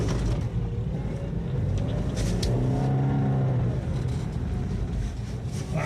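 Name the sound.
car engine revving, spinning in snow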